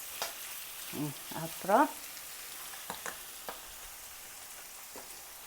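Fish frying in a pan for a home noodle dish, a soft background sizzle with a few sharper crackles and stirring clatters, while a voice speaks briefly over it.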